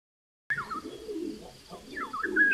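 Bird chirping in the video game WWF Panda Junior, set in the Madagascar rainforest, with short bright chirps over a soft forest ambience that return near the end.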